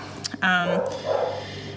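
A pet dog barking indoors at home, a sharp bark or two followed by a longer yelping, whining vocalization, fairly close and loud.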